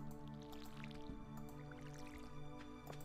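Watering crops in the Stardew Valley video game, soft wet splashing and dripping sounds repeating several times over a steady background tone, quiet and close.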